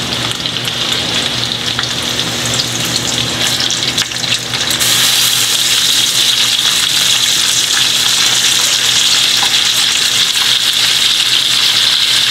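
Tuna and tofu sizzle in a hot pan with oil, a steady crackling fry that jumps louder and brighter about a third of the way in and then stays intense and even, with no voices.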